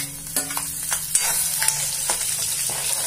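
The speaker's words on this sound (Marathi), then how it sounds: "हे बघा लसूण टाकतोय" Crushed garlic sizzles steadily and close in hot oil for Jalgaon-style baingan bharta, a bright constant crackle with a few soft stirring knocks and scrapes of a utensil in the pan.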